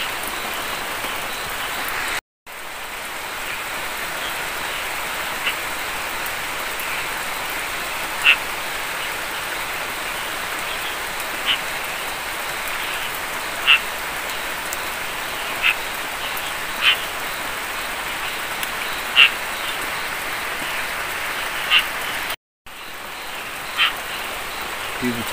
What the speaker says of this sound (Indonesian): Ini hujan deras teman-teman ya